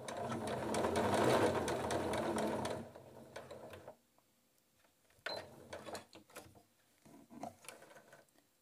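A sewing machine stitching thick fabric runs in a loud steady burst of rapid needle strokes, then stops and restarts in shorter, quieter runs of mechanical clatter separated by brief pauses.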